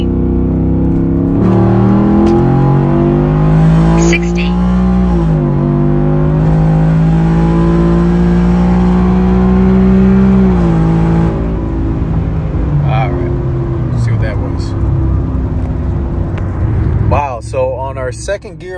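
A Ford F150 truck with a Boss manifold and tune accelerates hard in second gear, its engine roaring loud and steady with rising pitch for most of the pull, then easing off near the end, with a person talking over it.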